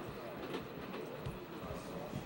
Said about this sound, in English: the world-famous Orient Express, is perhaps the most exciting train of all